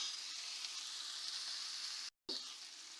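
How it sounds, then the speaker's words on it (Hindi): Food fries in a pan until light brown, giving a steady, loud sizzle close up that runs continuously, then cuts out briefly before resuming with a short stirring scrape. "लाइट ब्राउन होने तक इसको मैं ऐसे फ्राई करूँगी।"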